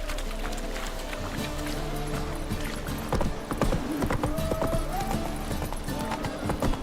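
Hooves of Roach, the horse in The Witcher 3, clatter in a quick galloping clip-clop that carries on without a break, joined by scattered clanks and a brief whinny-like tone partway through.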